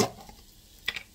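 Salmon burgers frying in a pan give a soft close sizzle, with a brief scrape or clatter near the end of the short stretch.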